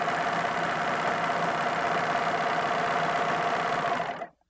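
A serger sews a rolled hem on stretchy fabric, giving a steady fast mechanical whir with rapid chattering stitches that runs continuously and then winds down and stops at the very end.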